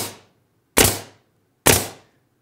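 A pneumatic nail gun in bump-fire mode drives two nails, each a sharp loud crack with a quick decaying tail, about a second apart with silence between.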